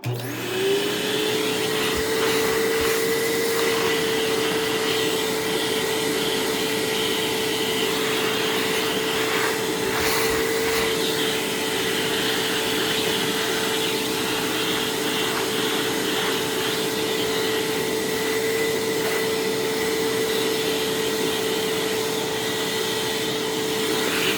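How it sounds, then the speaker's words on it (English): A Fantom Thunder vacuum cleaner bought secondhand and under repair runs continuously and loudly up close, holding a steady whining drone with a constant pitch and no breaks for the whole stretch and no talking. "Rocco, let's say you're gonna get scared by the vacuum."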